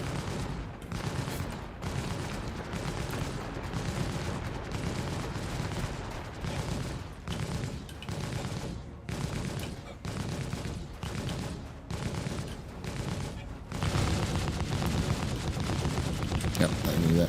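A ship's turret fires in the video game Star Citizen in rapid, repeated bursts of heavy gunfire, with short gaps between volleys and then a denser sustained stretch at the end, under occasional voices.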